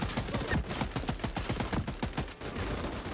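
Rapid, continuous gunfire from the video game Voidtrain, a dense rattling fusillade of closely spaced shots that runs steadily and loudly for the whole stretch with no voices.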